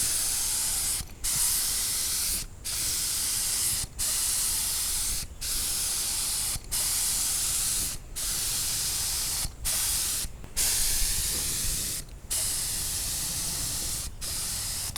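A cheap paint spray gun lays a coat onto a gas tank for a 1962 Ford Falcon, giving steady loud hissing bursts broken by about ten short pauses between passes.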